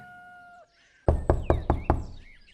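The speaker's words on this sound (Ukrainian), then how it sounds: "Постукав у двері жодної відповіді." Five firm knocks on a farmhouse's wooden door in quick, fairly even succession, loud and close, after a brief quiet pause.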